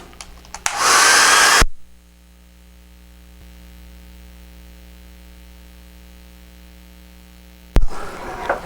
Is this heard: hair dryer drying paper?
yes